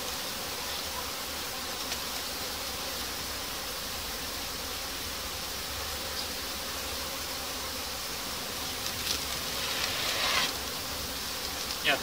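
Honeybees swarm and buzz inside a crowded hive box of a queenless swarm, a steady dense hum close by that holds at an even level, with a few faint handling knocks near the end.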